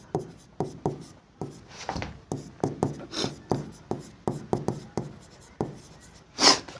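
A pen writes accounting entries on paper, close up, in quick irregular strokes and scratches with brief pauses between them.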